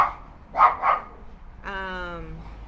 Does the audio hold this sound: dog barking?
yes